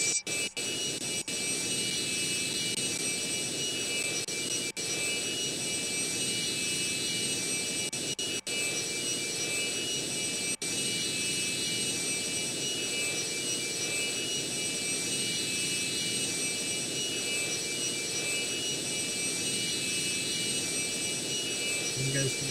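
Jet airliner engines roaring at full power during a takeoff run in a flight simulator game, a loud, steady, unbroken whine and rumble that holds for the whole stretch, with a player talking faintly underneath.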